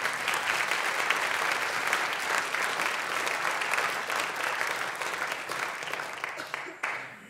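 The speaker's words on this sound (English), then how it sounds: "we can applaud that" Audience at a translation prize ceremony applauding warmly, a full steady round of clapping that gradually thins and fades out toward the end.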